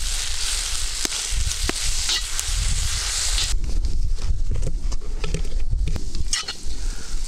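Onion and tomato paste sizzle and crackle in a hot pan over a grill, a steady frying hiss with occasional stirring scrapes.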